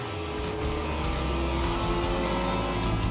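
Porsche 907 Longtail race car with a small 3-liter engine at a classic endurance racing event, its engine droning loudly and steadily throughout with a continuous mechanical roar.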